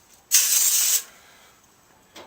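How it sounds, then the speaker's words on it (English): A short burst of non-stick cooking spray hisses for about half a second close by onto loaf pans, followed by quiet and the start of another brief spray. "I want to spray each one of my loaf pans"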